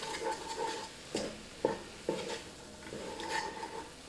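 Spoon stirring spices and garlic in a pot, soft scraping strokes with faint light clinks, quiet and close.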